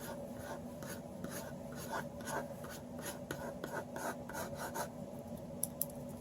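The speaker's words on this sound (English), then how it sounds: "This time I will draw long hair just for fun" Graphite pencil strokes on paper drawing long hair, a quiet, close series of repeated scratchy rasps in a loose rhythm, with no voices.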